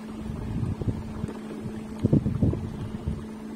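Small boat driven by an electric motor on a test run on a summer day, a low steady hum with wind buffeting the microphone and occasional soft knocks, no voices.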